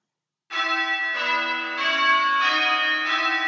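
Church tower bells ring in a steady repeating round, several bright metallic tones struck one after another, loud and close with a lingering ring and no talking.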